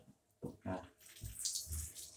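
Hot water gurgles and splashes through a car radiator in uneven bursts, close but fairly quiet.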